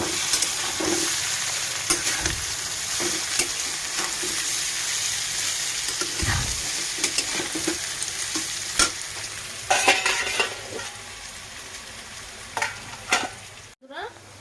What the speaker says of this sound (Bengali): আর এখানে হচ্ছে আলু ভাজা, একটু পেঁয়াজ কেটে ভালো করে আলুটা ভাজা হচ্ছে।